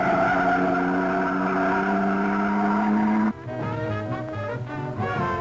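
Vintage sports racing cars roar past in the Mille Miglia road race. A loud sustained engine drone holds for about three seconds, then gives way to a rougher burst of another car rushing by close.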